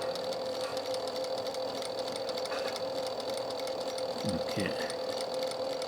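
Sewing machine stitching a pillow cover with a zipper, a steady mechanical whir running throughout, with a child at the machine and an adult coaching in brief speech over it.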